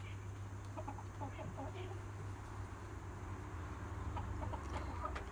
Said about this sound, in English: I just gave the chickens cracked corn and they pecked at it a little bit